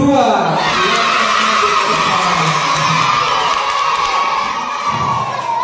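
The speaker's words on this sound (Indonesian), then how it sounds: "kita sambut dengan tepukan tangan yang meriah dari kelas 2." Schoolchildren at an elementary school closing ceremony for a regional dance creation contest cheer, shout and whoop continuously as a loud, dense crowd, filling the whole stretch without pause.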